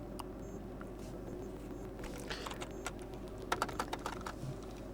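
A computer keyboard is typed on while entering terminal commands, with soft, scattered key clicks over a low steady hum, a quick burst of louder taps near the end, close but quiet, with no speech.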